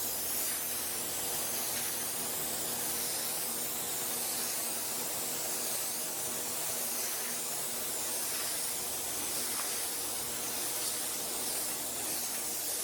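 A paint spray gun lays a third coat of HP5310 DTM primer over poly paste on a Corvette, a loud, continuous hiss that stays steady throughout with no pauses.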